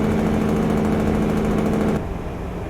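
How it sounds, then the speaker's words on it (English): Simulated truck in American Truck Simulator with a loud, rapid, pulsing engine drone as the exhaust brake works, then a sudden drop to a quieter, softer engine note near the end. "Get the exhaust brake in."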